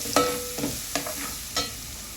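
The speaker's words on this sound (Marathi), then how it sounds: "आता ह्याच्यामध्ये मी लसूण अद्रकची पेस्ट टाकत आहे" Chicken sizzles in a pan with garlic-ginger paste, a steady frying hiss under a few sharp scrapes and clinks as a utensil stirs the mixture.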